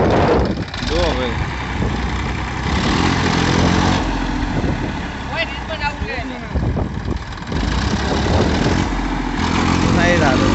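A Massey Ferguson tractor engine works under heavy load, a loud, steady diesel rumble that runs throughout while several people talk over it.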